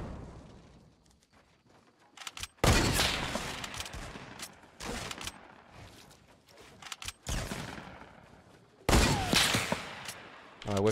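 Fortnite musket and shotgun gunfire: several loud, sharp blasts land in irregular bursts, separated by quieter in-game rumble and movement noise.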